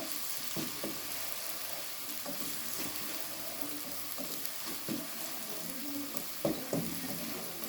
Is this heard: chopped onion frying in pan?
yes